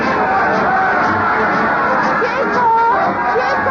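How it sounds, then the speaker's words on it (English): A crowd cheers and clamors continuously at a steady, dense level in a radio drama war scene, with a broad wash of many voices and no clear individual words. "Listen to them cheer, Diane."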